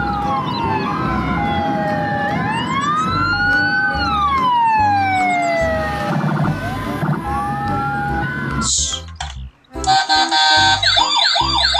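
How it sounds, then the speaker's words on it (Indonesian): A loud wailing toy ambulance siren sweeps up and down continuously, then cuts to a brief rattle and a faster warbling electronic tone near the end. "Dan ini lihat, ada mobil emergensi ambulans."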